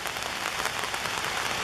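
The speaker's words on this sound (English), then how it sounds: "Since it is an absolutely horribly rainy day" Steady broadband hiss of heavy rain falling on a horribly rainy day at a roadside historical monument, a continuous dense patter with no pauses and no voices.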